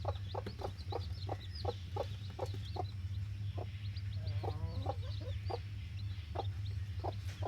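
Hens and roosters cluck in a steady series of short calls over a constant low farmyard hum, with birds chirping faintly in the background.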